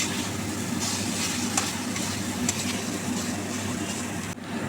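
Boiled chicken stirred into oily spice masala in a pan, a steady close sizzle with faint scraping and clinks from the pan, and no voices.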